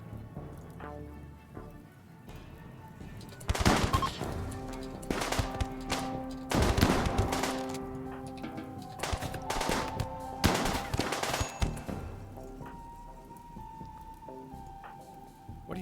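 Gunfire in a tower-defense style video game: bursts of rapid, sharp shots arrive in clusters over about sixteen seconds, mixed with ringing game tones and scattered impacts, fairly loud with no talk.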